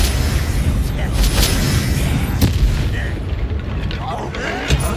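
The Confringo blast spell erupts in Hogwarts Legacy, a loud fiery boom with mechanical clatter and rumble over a dense game soundscape, with a voice faintly present.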